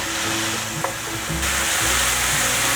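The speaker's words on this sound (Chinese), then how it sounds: "把所有调味料炒匀" Bitter melon stir-fried in a wok with seasonings such as salt, white pepper, sugar and pickled cordia, a loud continuous sizzle under brisk stirring and scraping, close up, with a sharp clink of a utensil partway through.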